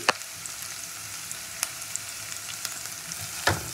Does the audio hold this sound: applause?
no